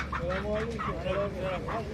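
Ducks and other fowl at a crowded animal market in Tuzla, Aydınlı, with repeated quacking and clucking calls close by in a busy mix, people talking around them.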